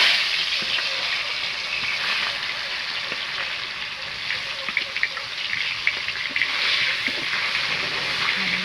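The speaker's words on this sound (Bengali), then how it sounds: "তেলটা গরম হয়ে গেছে, এবার মাছগুলো ভেজে নেব।" Snakehead fish frying in hot oil in a home kitchen, a steady close hiss and crackle of sizzling with occasional pops and clinks, continuing without talk.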